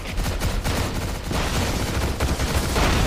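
An AK47 Black Knight variant with a magazine of nearly 120 rounds fires fully automatic in the CrossFire shooter game, a loud, continuous rattle of rapid shots with only brief gaps, and no talking over it.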